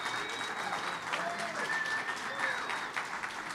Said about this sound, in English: So let's give a round of applause for Heidi.